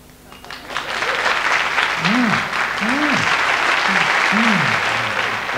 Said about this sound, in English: you all have to be looking very good and clapping very loud